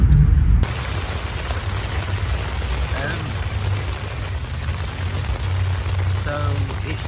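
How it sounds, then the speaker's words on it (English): Steady rain patters on a caravan close by, a constant hiss with low rumbling, while a person speaks briefly over it. "So it's raining."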